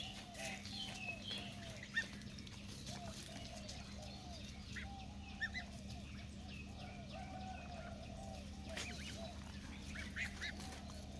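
Chinese goose goslings about two months old honk and peep repeatedly in a busy, overlapping chorus over a steady low hum, faint and continuous.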